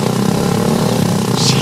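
A motorcycle engine runs with a steady low drone and faint clatter, close by and constant, a brief hiss rising near the end.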